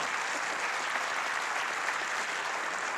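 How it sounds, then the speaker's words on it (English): An audience at a school board of education meeting applauds a student swimmer, an even, fairly faint wash of many hands clapping that holds steady without pause. "give him applause"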